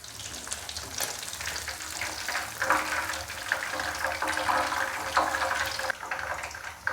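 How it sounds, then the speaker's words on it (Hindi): Pieces of fish for Lahori masala fish fry sizzling in hot oil over a medium flame, a steady crackling fry with occasional louder bursts of spattering and stirring. "साइडों को मीडियम फ्लेम पे 7 से 8 मिनट के लिए अच्छे से फ्राई कर लेंगे"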